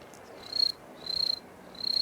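A human voice imitates a night cricket: three short bursts of high, rapidly pulsing chirps with brief pauses between, close and clear over a quiet background.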